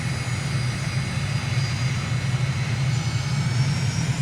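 A steady, loud jet-engine rumble of an airliner in Microsoft Flight Simulator, landing at N'Djamena, Chad, holds even and continuous throughout without breaks or talk.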